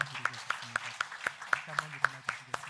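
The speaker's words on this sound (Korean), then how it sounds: "저희가 축복의 박수를 좀 드리고 싶습니다" A church congregation at a Christmas Day worship service claps together in a steady, even rhythm of about four claps per second. Voices murmur and sing underneath the clapping.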